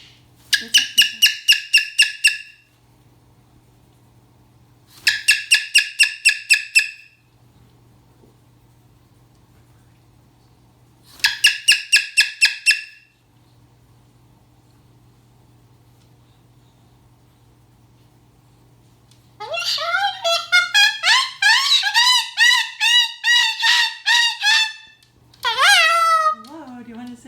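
A pet bird gives repeated harsh, squawking calls in short bursts separated by quiet gaps, with a longer, busier run of loud calls near the end, heard alone in a quiet room.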